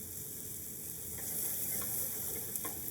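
Mushrooms and shallots sautéing in butter in a pan for a chasseur (hunter) sauce, a bright, even sizzle that swells slightly midway, with a few faint utensil taps near the end.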